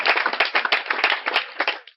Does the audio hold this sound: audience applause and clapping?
yes